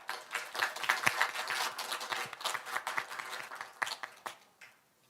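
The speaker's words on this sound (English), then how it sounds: "Please welcome them with a big round of applause." Moderate applause from an audience at an international labour statistics symposium, scattered individual claps forming a loose wave that gradually thins and fades out at the end.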